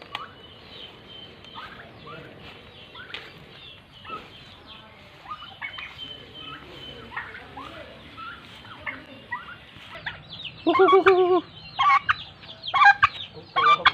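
Chickens cluck and chatter continuously nearby in a village in Laos, with a few louder, higher calls toward the end.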